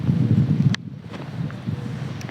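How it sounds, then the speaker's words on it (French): A gentle outdoor breeze on a hot spring day in France gives a soft, steady rush of wind noise on the microphone, with a few faint light clicks and rustles. "C'est un petit vent tout doux"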